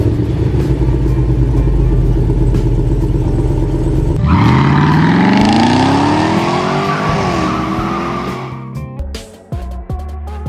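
Modified Hot Wheels Corvette diecast cars race on a track: a loud steady engine roar gives way to a rising whine and tire squeal as the pitch climbs, then fades into clatter and quick knocks at the end.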